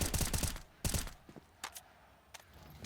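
Rifle fire from an M4 in a Counter-Strike esports match, short bursts of sharp shots at the start and a few more scattered later, fairly close with quieter game ambience between.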